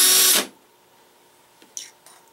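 A power drill bores into the plastic body of an inexpensive Husky LED flashlight, giving a loud, brief whir at the start that cuts off abruptly, followed by a few faint clicks and handling sounds.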